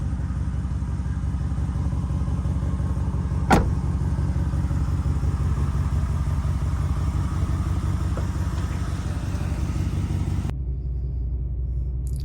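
A 2019 Ram 1500 Limited pickup truck's 5.7 Hemi V8 idles with a steady, deep rumble, close and continuous, with one sharp click partway through before it cuts off near the end.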